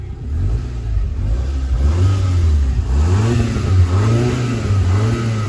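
A tuned Volkswagen Golf R Mk6 engine revs repeatedly to about 3,900 RPM, rising and falling in pitch with a steady idle between pulls, loud and close with no talking.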